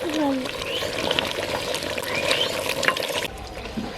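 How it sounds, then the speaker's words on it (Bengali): Tough broiler chicken curry sautéing in a pan with a little water, a continuous sizzle with stirring scrapes, clearly up close, while a person talks over it. "এই মাংসটা যেহেতু খুবই শক্ত, তাই ঢাকা দিয়ে দিয়ে একটু একটু জল দিয়ে কষিয়ে নিচ্ছি।"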